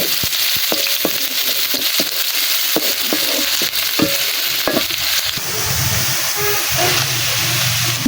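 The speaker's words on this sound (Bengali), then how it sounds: "একটু ভালো করে ভাজা ভাজা করে আনি" Chopped garlic and onion fry in hot oil with a steady sizzle, while a utensil stirs them through the pan with scattered clicks and scrapes, close and continuous with no talking.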